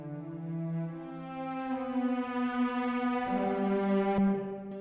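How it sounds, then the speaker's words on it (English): Sustained bowed cello section from the Cinematic Studio library playing long legato notes, full and resonant, with a change of pitch about two-thirds through and no other sounds. "And then I also used cinematic studio cellos."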